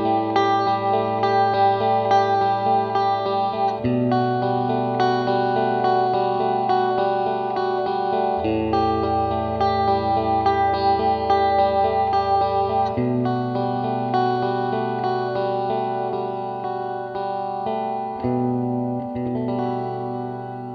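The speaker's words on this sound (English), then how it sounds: "Next up is the church setting, and of course you can get some extremely long and beautiful reverbs with that" A TC Electronic Hall of Fame reverb pedal on its church setting gives sustained instrument chords a long, lush wash of reverb, each chord change blooming and overlapping the last, loud and continuous, with no voices.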